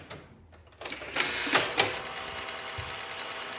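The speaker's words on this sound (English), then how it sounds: "So searching for the record. It's about to pick it up." A Wurlitzer jukebox mechanism whirs and clicks as it searches for a record, with a loud mechanical surge followed by a few clunks and a lingering motor hum, heard close with no talking.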